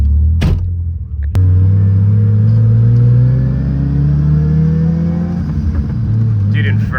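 Mazda RX-7 FC rotary engine rumbling loudly from inside the car as it pulls away and accelerates, revs climbing steadily through a gear, with a sharp shift thump early on.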